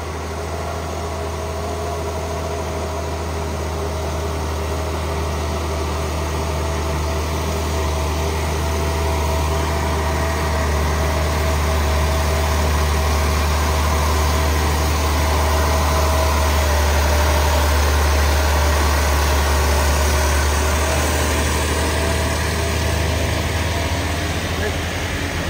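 A heavily loaded Fuso tronton truck grinds uphill with a steady, loud low engine drone that holds throughout, while people talk over it.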